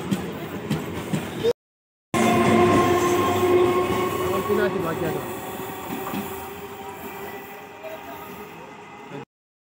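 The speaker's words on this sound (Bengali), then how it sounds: "তো ট্রেন চলে এসছে, আমরা এবারে ট্রেনে উঠে যাব।" A suburban commuter train on the Sonarpur line pulls into a station platform during a fair outing, its wheels rumbling and squealing steadily close by and slowing as it arrives, with a brief cut near the start.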